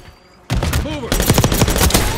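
Call of Duty gunfire, loud and close, erupts suddenly and keeps going as a dense, rapid automatic burst with overlapping shots, a brief whistling game sound between volleys.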